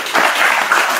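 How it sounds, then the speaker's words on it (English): Guests at a farewell dinner in Cape Town give colleagues a brief round of applause, a dense burst of clapping lasting about a second. "please, a round of applause to them"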